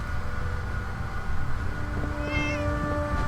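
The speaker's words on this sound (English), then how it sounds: "And you have a cat. A very lazy cat." A cat meows in the game Fallout 4, a few drawn-out, wavering cries rising over a steady background hum of game ambience, close and fairly clear.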